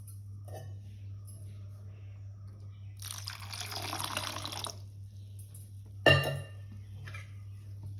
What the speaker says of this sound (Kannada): ಇನ್ನೂ 1 ಗ್ಲಾಸ್ ನೀರು ಸೇರಿಸ್ತೇನೆ